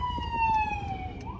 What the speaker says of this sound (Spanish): Espérame, es que viene una ambulancia.